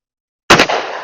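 A Taurus Model 66 revolver fires a single HSM .357 Cowboy Action load, a sharp, loud crack out of silence followed by a short ringing echo.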